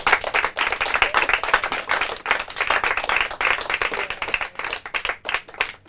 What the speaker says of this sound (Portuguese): uma salva de palmas para as nossas 4 equipas